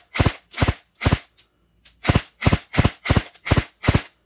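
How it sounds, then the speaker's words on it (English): Airsoft GI custom rifle firing in semi-auto set to burst, each shot coming as a sharp doubled crack; nine loud, close bursts follow one another at a steady pace with a brief gap near the middle. "It's shooting 2 rounds. So I guess it's set for a burst fire in semi-auto."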